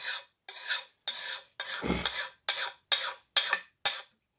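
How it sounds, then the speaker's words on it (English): A hand-held metal file rasps across an axe blade in eight steady forward strokes with short silent gaps between, close and clear, with no vise and no talking. "I pick this file up every time I pull back on it. I'm not sliding it back across the metal."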